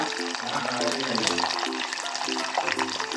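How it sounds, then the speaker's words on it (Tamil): Garlic sautés in hot oil in a pan for a South Indian kuzhambu, a busy sizzle with stirring clatter throughout, and a voice speaking over it. "பூண்டு போட்டு நல்லா வதக்கணும்"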